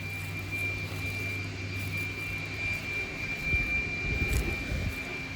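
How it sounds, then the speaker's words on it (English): A leaf blower runs nearby in a garden, a steady droning whine with a constant high tone over low rumble, swelling a little louder toward the end; no voices are heard. "I'm sorry about that leaf blower"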